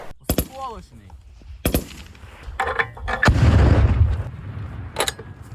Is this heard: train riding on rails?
no